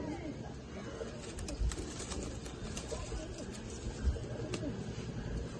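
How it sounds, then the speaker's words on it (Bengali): Caged pigeons from a pigeon collection in Chinsurah coo steadily in a low, continuous burble, close and layered, with people talking quietly in the background. "এই যে খাঁচায় যে পায়রাগুলো রয়েছে"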